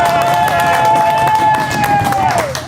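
A studio audience claps along in rhythm at a comedy talk show, under loud music with a sustained singing voice over it.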